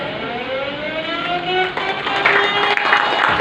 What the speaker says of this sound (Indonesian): dengan terdengarnya suara sirine